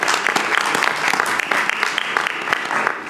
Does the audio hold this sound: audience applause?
yes